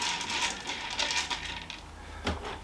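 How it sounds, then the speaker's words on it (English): Pine nuts toasting in a Ninja Foodi being stirred with a rubber spatula: a soft, continuous rattling and scraping of small nuts against the pot, close up and alone. "I'm just going to give these a little stir with a rubber spatula"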